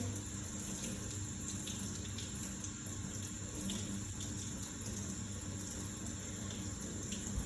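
Tap water running steadily from a faucet, a continuous close rushing flow with no voices.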